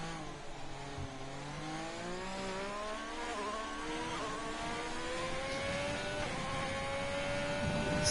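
Race cars in a racing game at the Japanese Grand Prix, engines rising in pitch as they accelerate past, a steady moderate whine building slightly louder toward the end, no voices.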